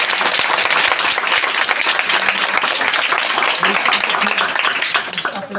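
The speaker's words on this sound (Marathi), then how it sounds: "एकदा आपण सर्वांनी जोरात टाळ्या वाजून या पाहुण्यांचा आपल्या ठिकाणी धन्यवाद करूया" Loud, dense clapping from a large group of children at a Zilla Parishad school, steady throughout and tapering slightly at the very end.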